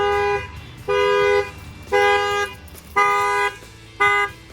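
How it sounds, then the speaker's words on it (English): Car alarm wailing on a staged car in Fort Lauderdale, a loud horn-like tone sounding in five regular bursts of about half a second each, close and alone. "I'm gonna go ahead and bang on the window, and that should fire off the alarm."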